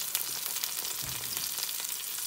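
Onions browning in a hot pan, a steady close sizzle with fine crackling throughout and no talk.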